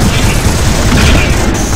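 In the video game Advent Rising, submachine gun fire comes as a loud, dense, continuous roar of rapid shots, close and filling the whole short burst.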